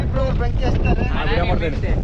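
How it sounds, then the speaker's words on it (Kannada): Wind blows hard across a hilltop, a loud continuous roaring buffet over the microphone with a voice faintly mixed in beneath it. "ಗಾಳಿ ಬರ್ತೈತಿ ಗಾಳಿ ಯಾರು ನಿಲ್ಲಿಸ್ತಾರೆ"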